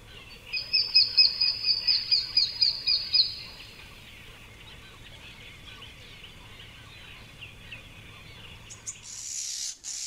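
Starlings call from the branches of trees, a rapid series of about a dozen loud, rhythmic chirps over the first three seconds, followed by fainter scattered calls in a quiet woodland setting.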